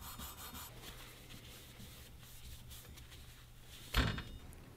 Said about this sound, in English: I'm just cleaning off everything that's not the maker's mark with another piece of 600 grit sandpaper